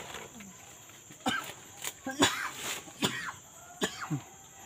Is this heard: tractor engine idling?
no